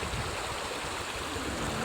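A shallow mountain stream, its bed reshaped by flooding, flows steadily nearby as an even, soft rushing and trickling wash with no voices present.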